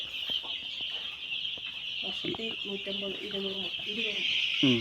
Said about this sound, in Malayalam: റെയിൻബോ ബൂസ്റ്റർ എന്ന് പറഞ്ഞ കോഴിയാണ്